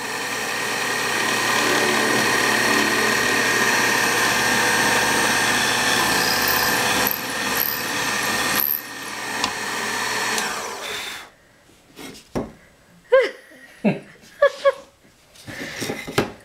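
A power drill bores holes into the body of a homemade guitar, whining loudly and steadily up close for about eight seconds. It then cuts out, leaving scattered clicks and knocks of handling.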